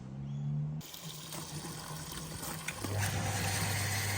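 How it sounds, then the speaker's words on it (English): Tap water gushes steadily into a 15-litre backpack sprayer that is being topped up after herbicide and wetting agent were added, a continuous close fill whose pitch rises partway through. "and then I'll top it up with water."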